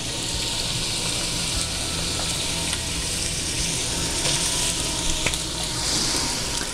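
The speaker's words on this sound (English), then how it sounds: "We have olive oil getting up to temperature. We'll add our leeks. And then our onions." Sliced leeks and onions sizzle in hot olive oil in a pan, a continuous bright frying hiss that stays loud and steady throughout with no talking.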